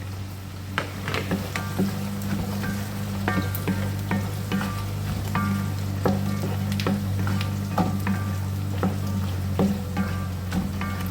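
Cabbage goes into a pan of frying onions for fried rice, setting off a steady close sizzle with scattered scraping and stirring clicks over a low hum.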